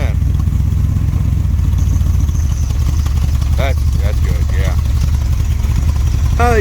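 Carbureted engine of a 1970s Dodge street machine van idling steadily, a continuous low rumble close by with some clatter, while a person speaks over it at times.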